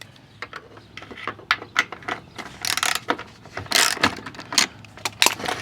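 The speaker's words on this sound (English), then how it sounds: "My 5/16 socket here. We'll tighten that." A 5/16 socket wrench ratchets as it tightens a bolt on a PWC trailer ratchet strap tie-down, giving rapid clicking bursts in uneven runs, close and fairly loud.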